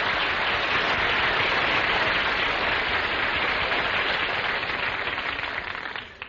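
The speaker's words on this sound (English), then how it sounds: "Folks, how about giving Don Wilson a big hand?" A studio audience at a Jack Benny comedy broadcast breaks into a big, sustained round of applause, dense and even throughout before tapering off at the end.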